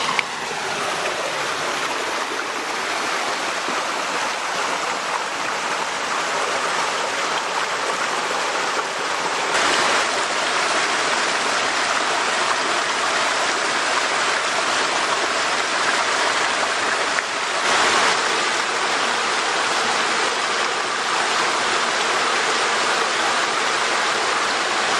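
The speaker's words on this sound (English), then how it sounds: "There are so many little waterfalls like this along this trail." Small waterfalls pour into a trailside stream in a steady, close rushing roar, the water's hiss swelling slightly at a couple of points but otherwise constant.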